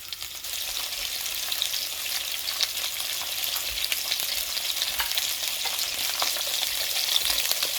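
Rock greenling fillet frying in a pan with seasonings, a steady close sizzle and crackle holding evenly throughout with small pops scattered across it, no voices.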